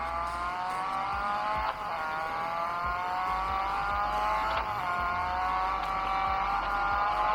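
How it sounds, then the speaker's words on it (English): A car engine drones steadily in a mobile racing game played on a Samsung Galaxy A30s, a sustained harmonic whine that dips briefly twice as gears shift, alone without talk. "The car is so slow, I don't think I need to press much of the brakes."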